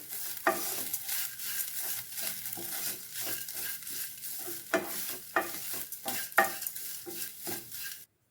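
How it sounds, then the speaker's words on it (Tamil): Coconut roasts in a hot pan with a soft, steady crackle while a spoon scrapes and stirs in quick, repeated strokes and the occasional clink against the pan; no voices. "அந்த இருக்கிற சூட்லேயே தேங்காயை வறுத்து எடுத்துக்கலாம்"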